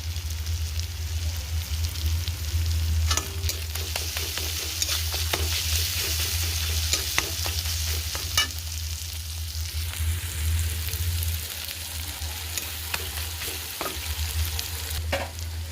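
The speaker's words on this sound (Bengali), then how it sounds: "টমেটোটা ভাজা ভাজা হয়ে গেছে এবারে হলুদ দিলাম" Tomatoes fry in a pan with turmeric while a spoon stirs them, making a steady close sizzle with scraping and clicking strokes over a low hum, and no talking.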